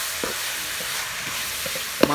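A coconut and jaggery mixture being stirred continuously in a pan, with soft, faint scraping strokes over a low sizzle and one sharper clack of the spoon near the end.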